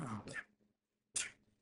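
Two close, loud sneeze-like bursts separated by a brief silence, the first with voiced breathy noise, the second a sharp sudden explosion fading quickly.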